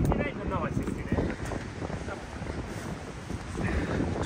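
Gusty wind buffeting the microphone outdoors beside a tank, a loud rough roar that swells and eases, with a voice speaking faintly beneath it.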